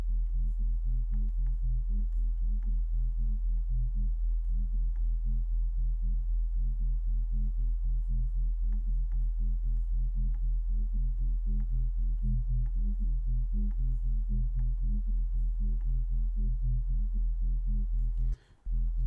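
A steady synthesized sub bass tone for drum and bass holds low and unbroken, with a faint pulsing texture above it, dropping out briefly just before the end.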